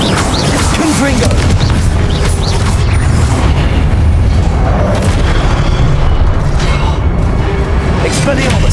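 Booming magical blast from the Confringo fire spell in Hogwarts Legacy, a loud continuous rumble with crackling debris and creaks, dense and close, with a voice briefly heard amid the battle noise.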